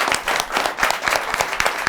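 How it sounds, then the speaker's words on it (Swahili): Lively applause from a gathered audience honouring a man who ran from Kisumu to Mombasa for charity, close and dense clapping that holds a strong, even level throughout. "Wapi makofi yake mzee."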